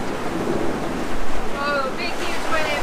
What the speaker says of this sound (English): Oh, big huge wave.